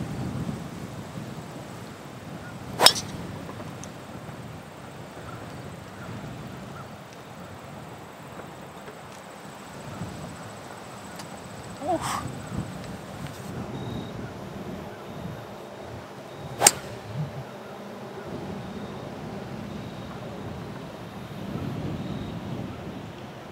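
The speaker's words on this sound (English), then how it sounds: "this wind is aggressive" Steady broadband wind rumble sweeps across an open golf course at Sky Valley, gusting and buffeting the microphone throughout, with a few sharp clicks cutting through the low roar.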